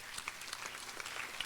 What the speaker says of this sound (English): so another round of applause for all of them